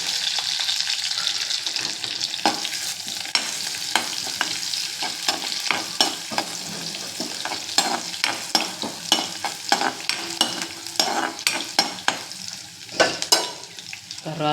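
Dal and garlic fry in hot oil for ponnaganti kura pappu, a steady sizzle broken by frequent scraping and clinking as a spoon stirs the pan, close up and without talk.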